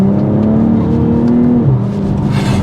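A tuned BMW M240i xDrive with a B58 engine at 450 bhp accelerating under boost, heard from inside as a loud, steady engine drone that climbs in pitch, dips at a gear change, then builds again with a rising whoosh of boost.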